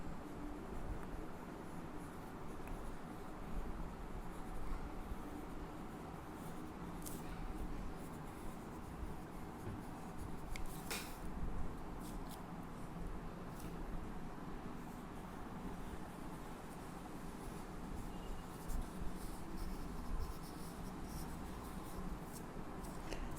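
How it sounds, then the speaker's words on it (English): Blue pencil and soft pastel sketching on paper, drawing the rough outline of an aura lightly, giving a steady, continuous close-up scratchy rubbing that runs unbroken throughout with a few brief louder strokes. "So I'm going to draw the rough shape of the aura"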